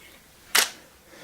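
A single camera shutter fires while copying a photographic slide, one crisp close click that stands out against a quiet background.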